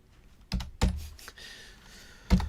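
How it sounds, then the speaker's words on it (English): A few sharp computer keyboard keystrokes, close and fairly loud, come in scattered bursts with short quiet gaps between them and no talking. "I can't even type right now."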